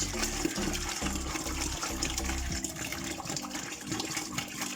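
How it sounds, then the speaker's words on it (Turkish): Five litres of water poured into a bucket for pickle brine, a steady loud gushing splash that runs continuously with a low rumbling fill underneath. "Beş litre suyumuzu kovamızın içerisine boşaltıyoruz"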